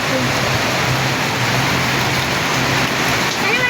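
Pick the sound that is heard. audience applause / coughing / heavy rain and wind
heavy rain and wind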